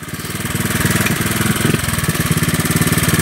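The engine of a small bug-out vehicle runs close by with a steady, loud, rapid chugging putter that holds an even pace throughout, with no voices.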